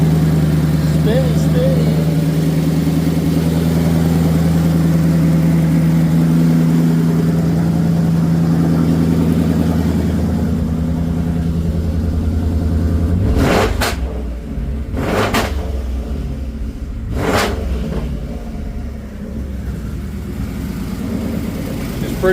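Ford Ranger with a swapped Coyote engine idling loud and rough with a deep, steady drone, then a few sharp revs toward the end, under a voice.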